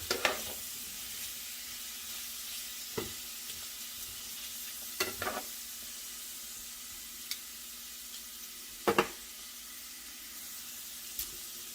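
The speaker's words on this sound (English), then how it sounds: "We're gonna let these onions saute down here in the olive oil for a minute or two." Onions sauteing in olive oil, a steady, even sizzle and crackle that runs throughout, broken by a few sharper pops and stirring scrapes spaced several seconds apart.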